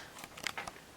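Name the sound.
scissors trimming threads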